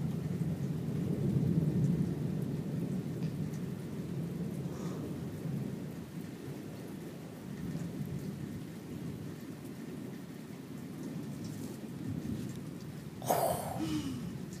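Rolling thunder from a lightning storm rumbles low and continuously under steady rain, with a sharper, louder crack arriving near the end.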